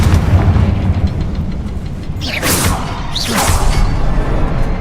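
A fiery Confringo spell blast in Hogwarts Legacy, a loud whooshing burst that erupts over a booming combat din, followed by a second rushing swell of fire and rumble.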